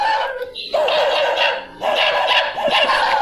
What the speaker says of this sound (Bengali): কুকুরগুলো এখন কান্নার আওয়াজ হচ্ছে